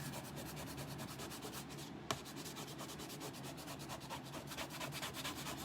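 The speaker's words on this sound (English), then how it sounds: "I'm going to scrape off everything that we did last month" Scraper tool scraping old craft decor off a board, a fast rhythmic series of rasping scrapes, close and steady, with a brief pause and a sharp tap midway.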